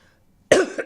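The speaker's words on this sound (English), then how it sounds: "I'm sorry that I'm coughing." A single short, sharp cough after a brief silence, close and fairly loud.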